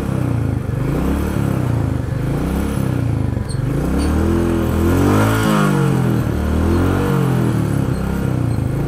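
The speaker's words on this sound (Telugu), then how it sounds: "ఇలా ఉంది ఈరోజు బీటింగ్ సౌండ్" A motorcycle engine, due for servicing, thumps with a loud, rhythmic beat close by, revving up and down in swells while the pulsing exhaust note continues throughout.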